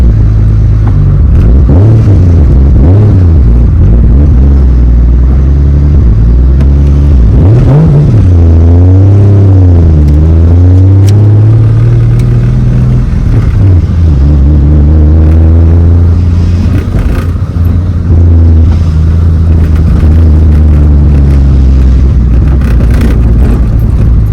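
A BMW E36 M3 pulls away on a test drive with a loud, close engine drone inside the car, rising and falling through several gear changes and revs over a steady road rumble.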